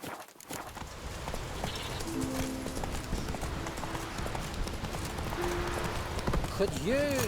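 Hoofbeats of Roach, the horse in The Witcher 3, galloping in a steady clip-clop rhythm close by, running continuously over an ambient game soundscape with a brief voice heard near the start.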